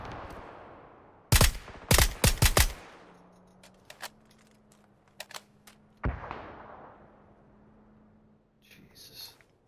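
Sharp bursts of gunfire from a gun in the battle royale game PUBG: a quick volley of several loud shots, then scattered single shots and softer distant pops over a low hum.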